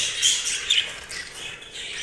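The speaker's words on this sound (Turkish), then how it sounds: "Burada görmüş olduğunuz iki tane erkek muhabbet kuşumuz var." Two male budgerigars, a green-and-yellow jumbo and a normal green one, give sharp, shrill squawks and quick chirps that run continuously and close up, with no voices.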